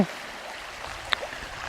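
River Ormarsá in Iceland flowing steadily as a soft, continuous broadband rush of water, with one brief faint click partway through and no voices.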